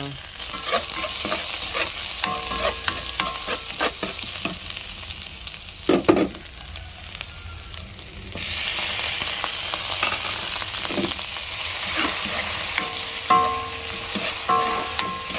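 Vegetables and ground pork sauté in a hot pan, a continuous sizzle broken by repeated scraping stirs, and the frying grows louder midway.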